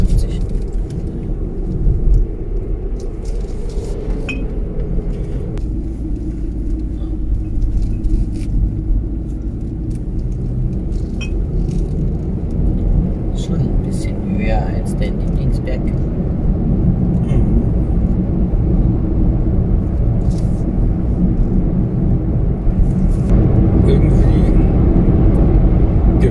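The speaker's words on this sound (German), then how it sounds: "Der LKW ist aber ein bisschen schneller als 50." A truck and cars pass along a road on the way to Trondheim, making a loud, continuous rumble of traffic that swells and fades slightly throughout.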